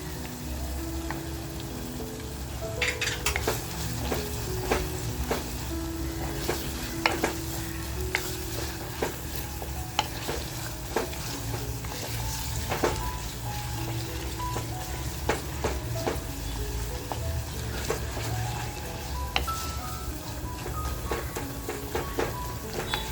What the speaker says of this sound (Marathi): बघा स्लो फ्लेमवरती ठेवलेलं आहे म्हणून आपल्याला वेळ लागतोय त्याचबरोबर जी लसूण घेतली आहे ती लसूण टाकते